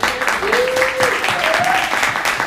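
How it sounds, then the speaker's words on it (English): An audience at a community launch event gives a sustained round of applause, dense clapping filling the room while a voice briefly carries over it. "really a round of applause for everyone that's on"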